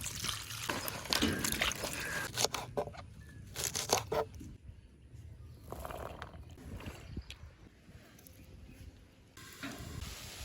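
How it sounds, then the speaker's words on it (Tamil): Onion flowers are washed in water in a Jaffna village kitchen: uneven splashing, rustling and trickling in bursts, fairly close, with quieter gaps between handfuls. "இதை நாங்கள் கழுவி எடுப்போம்."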